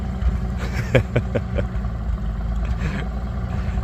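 Big tractor engine with its governor opening up after idling down too low: a low, rough engine drone swelling briefly with a few quick throaty pulses near the start, then settling back to a steady rumble.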